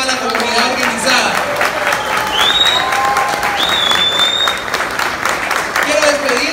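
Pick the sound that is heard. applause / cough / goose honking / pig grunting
applause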